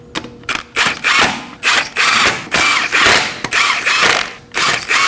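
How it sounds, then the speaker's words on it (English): A ratchet snugs up lug nuts on a Nissan Armada, close and loud, with repeated bursts of rapid clicking pawl rattles separated by brief pauses as the tool is reset between strokes. "Install the lug nuts by hand. And now go ahead and snug them up in a star-shaped pattern."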